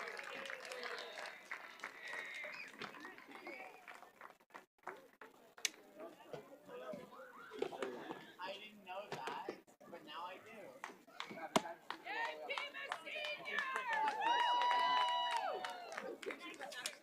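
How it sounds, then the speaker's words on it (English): A crowd at a varsity high school football game between Pima and San Carlos applauds the seniors, clapping and cheering at moderate loudness beneath an announcer's voice, with a brief whistle-like tone near the end. "Let's give them all a big round of applause."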